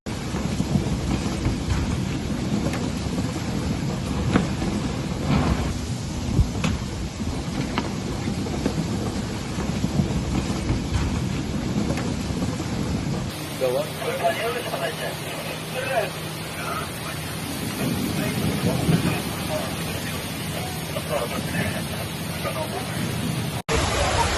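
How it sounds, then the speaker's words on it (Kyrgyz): Heavy rain during a downpour in Moscow, where metro stations flooded, roars as a steady dense wash with rumbling like thunder. Halfway through, the sound shifts to a harsher, hissier roar of water. "катуу жаан жаап, метролорду суу каптаган видео соц тармакта кызуу талкуу жаратты"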